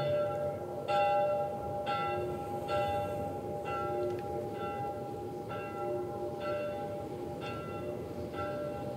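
A church bell in The Last of Us Part 1 tolls repeatedly at a steady, roughly one-second rhythm, each strike ringing out over a low rumbling ambient bed, with no voices.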